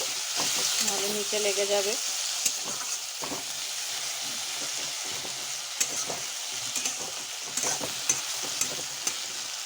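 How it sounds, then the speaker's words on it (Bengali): Tengra fish curry with aubergine is stirred in a frying pan once the lid comes off, a steady sizzle beneath scraping strokes and brief clanks, while a person talks over part of it. "ঢাকনা খুলে আরেকবার নাড়িয়ে দিচ্ছি,"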